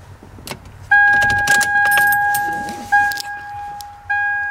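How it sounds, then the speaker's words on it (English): Key jangling in the ignition of a Toyota Tacoma with a TDI engine swap, followed by a clear two-tone warning chime that repeats three times, close and loud. "So let's get the key on."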